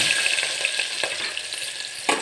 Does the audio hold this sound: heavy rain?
no